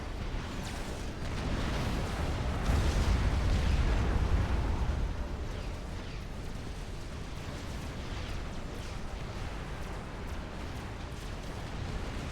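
A video game battle with missile strikes from an M28 unleashes a rolling wall of explosions, swelling to a heavy booming peak early on and then settling into a dense, continuous rumble of distant blasts and bursts.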